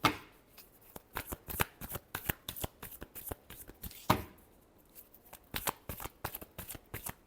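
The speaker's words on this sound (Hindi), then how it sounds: "Last shuffle." Tarot cards shuffled by hand close up, a rapid series of crisp riffling snaps and slaps in irregular bursts, with no talk.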